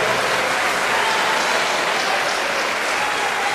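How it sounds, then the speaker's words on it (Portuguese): A church congregation at a Baptist service claps loudly and continuously in celebration, a thick, even wash of applause filling the whole stretch without a break. "Pode aplaudir com brado de vitória."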